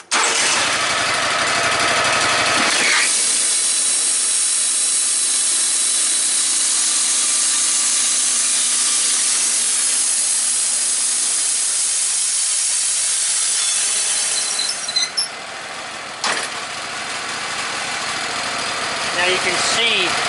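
Woodmizer LT15 bandsaw sawmill running and cutting wood shingles, a loud steady engine drone with a high whining saw cut held for most of the clip, tapering off near the end.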